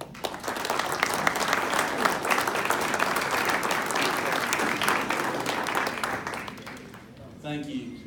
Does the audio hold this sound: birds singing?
no